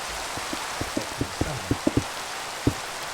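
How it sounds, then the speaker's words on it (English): Steady rain falls in Minecraft modded with Quark, a constant hiss of rainfall with scattered soft droplet taps spread unevenly across it, with no voices. "So it's detecting rain, it's detecting sunlight."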